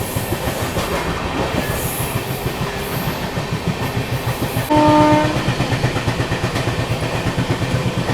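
Secunderabad Duronto Express passenger train running near Agra in the evening, a steady rhythmic clatter of wheels over rail joints throughout, with a brief tonal horn sounding midway over the rolling noise.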